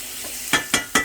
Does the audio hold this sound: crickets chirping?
no